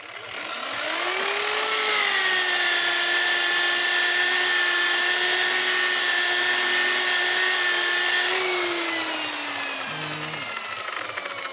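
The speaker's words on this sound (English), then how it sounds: "That could do with a little sanding." Power sander working on a wooden stool, giving a steady, loud whining drone that ramps up, holds for several seconds, then winds down, with no talking.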